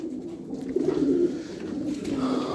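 Pigeons in a loft cooing steadily, a low throaty burbling that rises and falls, fairly close with faint background noise and no talking.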